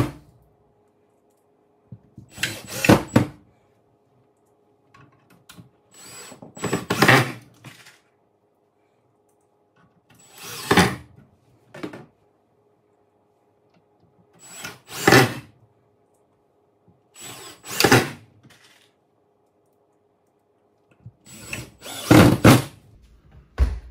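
A power drill drives drywall screws into a mounting box, sounding in six short, close bursts at a slow, regular rhythm, with near silence between them.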